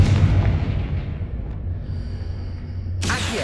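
A Confringo fire spell explodes in the video game Hogwarts Legacy, a loud booming blast that rumbles and fades over a few seconds before a sharp bright burst at the end.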